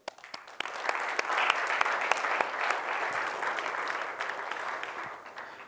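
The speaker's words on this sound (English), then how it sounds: "So huge round of applause to him." A conference audience breaks into applause, starting with a few scattered claps and swelling into a full, steady round that holds for several seconds before slowly thinning out, with no speech over it.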